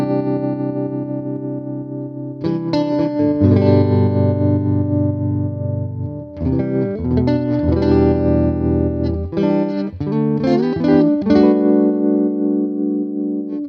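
An electric guitar runs through a Fender tremolo effect in the AmpliTube 5 Fender Collection, with loud sustained chords and shifting single notes ringing out close and full, no voices over the playing.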